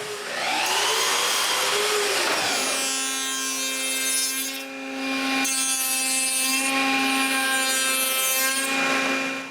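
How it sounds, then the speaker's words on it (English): Wooden rails for a dresser being cut to length with a saw, producing a steady, loud, continuous cutting whine with strong tonal harmonics that runs through the whole stretch, dipping briefly twice, with no talking. "Next, I cut the rails to the right length just before cutting their ends profile."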